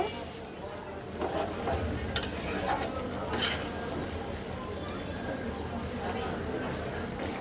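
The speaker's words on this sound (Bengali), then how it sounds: "ঠিক এই সময় দিয়ে দেবো ভেজে রাখা মাছগুলো এবার একটু মিক্সড করে দেব" Fried tengra fish stirred into boiling curry gravy with mustard leaves: a steady bubbling simmer with a few spoon-against-pan clinks, while a voice murmurs faintly in the background.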